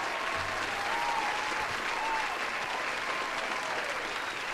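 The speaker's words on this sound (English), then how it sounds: "Here's one more round of applause, Emperor Dread." Audience applause, a dense, steady wash of clapping from a crowd that holds at an even level throughout, with no one speaking over it.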